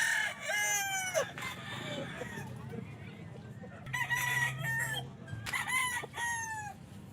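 Roosters crow repeatedly at the Santa Maria pet market in Bulacan, including a White Kelso cock, several loud nearby crows with clucking between them and faint talk in the background.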